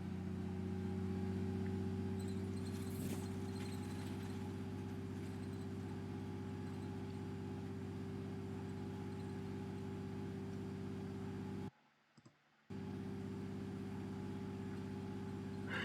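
Bus engine from the OMSI 2 driving simulator on the Scunthorpe to Lincoln route 100, a steady low droning hum with constant tonal layers, briefly cut to near silence for about a second before resuming unchanged.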